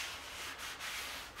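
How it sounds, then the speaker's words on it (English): Sandpaper rubs over the wood of a hoop-handled charcuterie board, a final light pass to knock down raised fuzz. Steady back-and-forth strokes form a soft, continuous hiss with a few brief pauses between passes, close and alone. "all I'm trying to do with that last bit of sanding is just knock down the fuzz"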